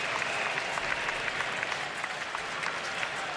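A crowd of about 29,000 at a Braves versus Phillies baseball game in Philadelphia, cheering and clapping in a dense, steady roar that fills the whole moment.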